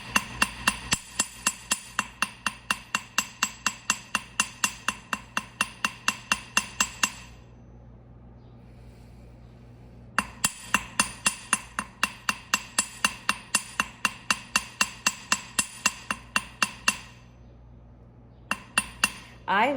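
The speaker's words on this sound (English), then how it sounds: "I don't want to hammer it too much because I can anneal it and get a little bit more hammered" Hammering on a small metal jewelry piece: rapid, steady, ringing metallic strikes in long runs, broken by two pauses, loud and close with no talking.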